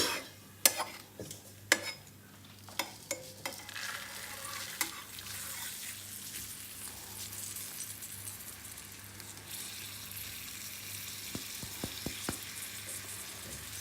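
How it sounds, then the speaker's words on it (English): Rice being stirred gently in a pot for Calcutta biriyani, with scraping and soft clinks of a spoon against the metal early on, then a steady low sizzle and scattered light taps, close and continuous. "So now very gently stir."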